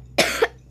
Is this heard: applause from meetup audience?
no